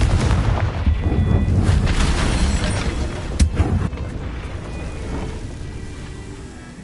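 A Confringo fire spell blast in Hogwarts Legacy, a loud rumbling burst with a sharp crack partway through, then a fading roar.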